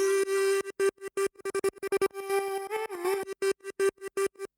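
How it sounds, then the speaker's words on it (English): A sustained vocal line chopped by a slicer effect into rapid rhythmic gated bursts, stuttering on and off in a tight pattern within an electronic remix. "I've got the vocals kind of going on here with the slicer"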